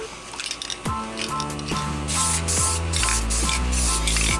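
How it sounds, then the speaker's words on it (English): Rust-Oleum primer is sprayed from an aerosol can onto an Infiniti FX35 side mirror in short, close hissing bursts, separated by brief pauses and overlaid with a faint rhythmic tone. "put a couple of light coats of this Rust-Oleum primer"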